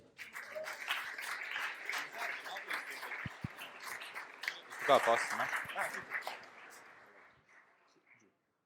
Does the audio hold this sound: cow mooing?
no